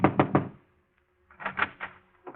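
Knocks on a manager's office door in a cafe, a radio drama effect: three quick raps, a pause, then a second series of four or five knocks, close and crisp in a quiet room.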